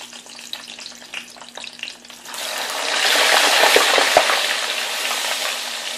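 Light scattered popping comes first, then hot grease in a pan erupts into a loud, dense, violent sizzle once liquid is added, with the roar holding steady and close for several seconds.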